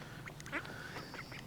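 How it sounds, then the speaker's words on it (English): Ducks bred as a cross of mallard and Indian runner give faint, soft, scattered quacks at close range over a low outdoor background. "They're a cross between a mallard and an Indian runner."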